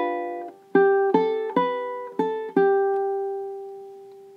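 Ukulele picking single notes from measure 36 of a song: five or six plucked notes in an unhurried rhythm, close and clear, the last one ringing out and fading.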